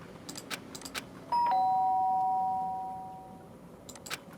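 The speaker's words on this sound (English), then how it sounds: "The sharp sound of a doorbell pierced my sleepy haze" Doorbell in the Danganronpa video game rings once, a clear two-tone chime that rings out and slowly decays over quiet background ambience.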